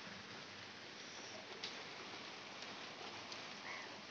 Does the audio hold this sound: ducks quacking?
no